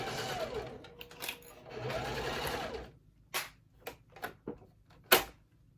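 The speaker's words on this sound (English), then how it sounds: "you sew 1/4 inch seam allowance as far as you can" A domestic sewing machine stitches a quarter-inch seam on a wallet, with two sustained whirring runs of motor and needle followed by a few short separate clicks and clacks of the machine being handled.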